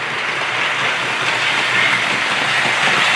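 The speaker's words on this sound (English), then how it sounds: "So now I'm running 2 trains at the same time using these similar remotes" Two HO scale model trains running at once, heard as a continuous, fairly loud rolling rumble with a faint rhythmic clatter and no talking.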